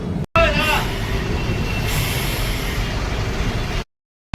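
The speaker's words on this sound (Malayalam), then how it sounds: "ഈ കൽക്കട്ട നഗരത്തിലൂടെ ഈ ഡ്രാമിൽ പോകുമ്പോൾ" Rumbling tram ride through Kolkata city streets with a steady low mechanical drone and rattling, a brief squeal near the start, ending abruptly; no speech.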